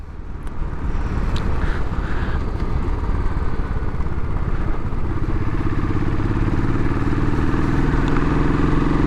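A Royal Enfield Classic 500 motorcycle ridden on open roads, its engine a steady, loud, low thumping drone that holds for the whole stretch alongside constant wind rush.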